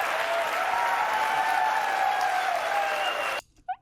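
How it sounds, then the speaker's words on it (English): Nintendo's 2004 E3 audience applauds Shigeru Miyamoto, loud dense clapping and cheering that holds steady and then cuts off abruptly near the end. "Oh, you can get some crowd reaction in here too."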